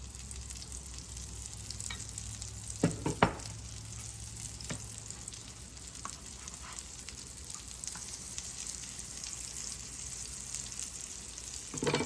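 Black chickpea shami kababs shallow frying in oil, a constant close crackling sizzle with a couple of sharp clatters of a utensil early on, no voices over the steady hiss.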